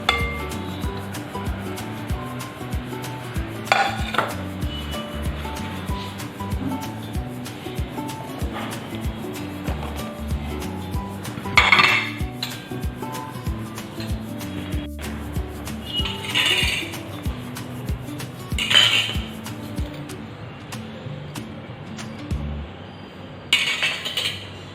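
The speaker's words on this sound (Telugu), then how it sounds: "ఇప్పుడు ఇవన్నీ కూడా మనం ఈ బౌల్లో కలుపుతున్నాం" Vegetable salad with nuts and dates is mixed in a bowl, with steady clinks and scrapes of a utensil against the dish and occasional sharper clatters, close and moderately loud, with faint speech at moments.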